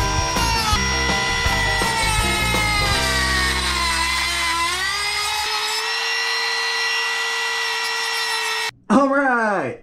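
A power tool cutting hex shapes into RC car wheels for a speed-run off-road build, a loud whirring whine with shifting pitch and grinding texture, then a brief stop and short rising bursts near the end, close up.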